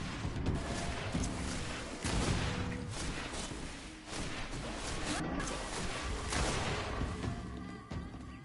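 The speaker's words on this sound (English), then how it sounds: "Watch out! Grenade!" A grenade blast in the Greedfall video game fills the clip with loud, dense crashing noise, booming rumble and sharp bursts that continue steadily throughout.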